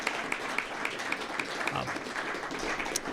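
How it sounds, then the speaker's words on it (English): Audience applause for panelists at a food and beverage festival panel on water usage, a steady spread of clapping throughout, moderately quiet and without talk. "can we give our panelists a hand of applause?"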